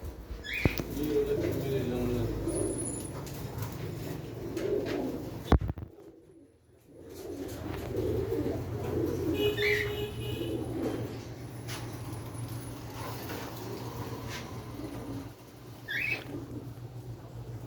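Pigeons at a bird market in Kurumbur, with soft cooing, rustling and a sudden burst of flapping wings midway, under low surrounding chatter.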